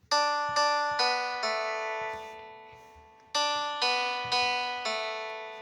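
Plucked, synthetic-sounding guitar notes from an electronic keyboard, several bright chords struck one after another with a pause in the middle, each ringing and decaying.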